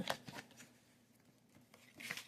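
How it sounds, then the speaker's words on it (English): Tarot cards being shuffled by hand come through faintly as soft, quick riffling bursts and light slaps at the start and end, close to the microphone. "I'm going to shuffle one more time."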